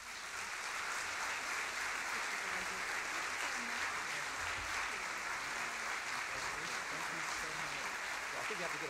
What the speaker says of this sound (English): Please, let's give them a great round of applause.